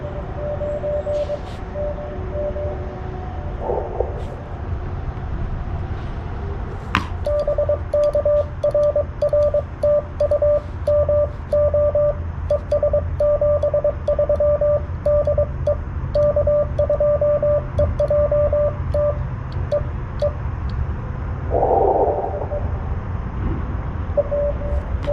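CW Morse code received on a Yaesu FTDX10 transceiver during a park activation: rapid keyed tones beep in bursts of dots and dashes over a steady band hiss, with fainter signals alongside and no talking.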